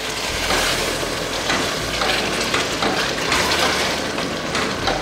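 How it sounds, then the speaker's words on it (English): Crayfish and smoked fish being stirred into a bubbling Nigerian-style vegetable sauce, a loud, dense sizzling hiss with soft scraping movement throughout, close to the pot, with no talking. "I'm going to give it a stir."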